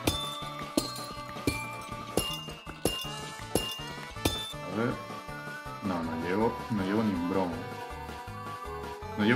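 Pickaxe strikes chip at blocks in Minecraft, crisp clinking hits repeating in a quick rhythm under game music, with a person talking in between.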